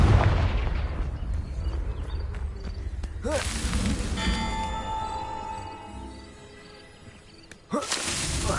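A Confringo explosion spell in a Harry Potter video game: whooshing casts and booming blasts, the loudest bursts near the start, mid-clip and just before the end, with quieter ringing tones in between.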